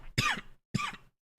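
Three dry, harsh coughs burst out close to the mic at even intervals with short silent gaps between, a person's throat clearing roughly through each one.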